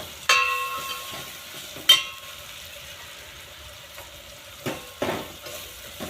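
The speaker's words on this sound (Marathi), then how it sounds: "त्याचबरोबर हे आपण बेसन पीठही छान यात भाजून घेऊया।" Gram flour (besan) roasting in a hot pan with vegetables, a soft sizzle under repeated scraping strokes of a spoon, with a few sharp knocks of the utensil against the pan.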